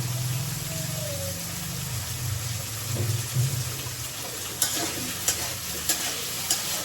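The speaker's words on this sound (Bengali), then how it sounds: "আলুগুলো দিয়ে ভেজে নিচ্ছি।" Potatoes frying in a pan for a homemade snack, a steady low sizzle with occasional scraping stir clicks and utensil taps toward the end, close by with no talk.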